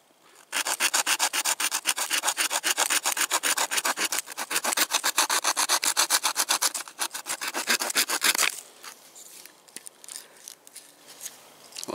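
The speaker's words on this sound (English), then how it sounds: "It isn't the sharpest saw in the world, but you can push and pull without worrying about bending it." A multi-tool's folding pocket saw cuts through wood in fast, steady push-pull strokes, loud and close, for about eight seconds, then stops and leaves softer scraping and handling noise.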